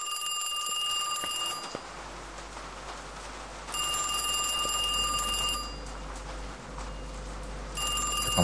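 In a horror video game about working at a strange burger shop, a telephone rings in repeated bursts of a bright, trilling bell separated by pauses, clear and fairly close, with no talking.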